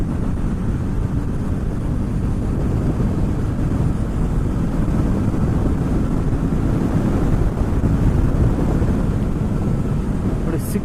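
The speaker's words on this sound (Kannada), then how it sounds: "ನೋಡಿ ಸಿಕ್ಕಾಪಟ್ಟೆ ವಿಂಡ್ ಬ್ಲಾಸ್ಟ್ ಬರ್ತಾ ಇದೆ." Heavy wind buffeting against a rider at about 120 km/h on a Triumph Scrambler 400X adventure motorcycle, a loud continuous low roar of rushing air that fills the whole stretch evenly.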